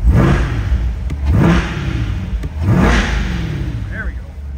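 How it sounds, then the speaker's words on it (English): A 2022 Chevrolet Corvette C8 with an MPP exhaust revs up hard three times in a row, each roar climbing and falling back, loud and close. "let's give it a couple revs"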